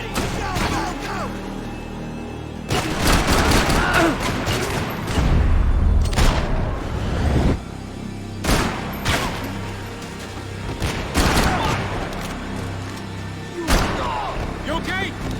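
Loud bursts of gunfire and heavy booming shots from a Max Payne 3 firefight, spread across the scene in uneven volleys over a constant backdrop of action noise, with voices talking between shots.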